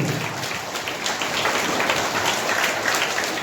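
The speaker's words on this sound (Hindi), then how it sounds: "इनकी हौसला अफजाई के लिए आप लोगों से गुजारिश है एक बार जोर से तालियों के इस्तेमाल कीजिए।" Dense, steady applause from an audience at an Independence Day prize distribution ceremony, clapping for children who gave speeches; a continuous wash of many hands, fairly loud and unbroken for the whole stretch.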